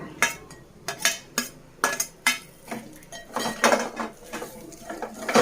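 A spoon clanks and scrapes repeatedly against a metal pot as fried dried prawns are added and stirred into a spicy taro root stew, giving sharp, fairly close clinks at an uneven rhythm.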